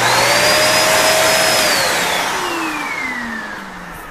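Kenmore Allergen Seal Anti Tangle vacuum cleaner running close by, a loud, continuous whine whose pitch rises and then glides steadily downward as it spins down over four seconds.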